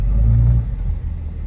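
A third-generation Dodge truck with a stock exhaust drives along, its engine giving a steady, fairly quiet low rumble with a slight rise and fall.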